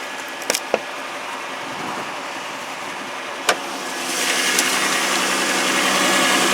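A 3.5-liter V6 in a 2010 Chrysler Sebring idles steadily after a cold start, a close, even hum that swells slightly louder partway through, with a few sharp clicks near the start.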